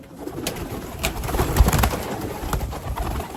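Racing pigeons coo repeatedly in soft, low rolling calls, several birds close by, over a steady hiss of outdoor background noise.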